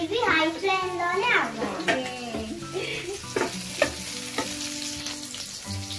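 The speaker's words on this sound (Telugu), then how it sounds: "అలాగే హై ఫ్లేమ్ లోనే టాస్ చేసుకోండి" Manchurian tossed in a wok over a high flame, a steady sizzle with scraping tosses, mixed with children's voices and talk throughout.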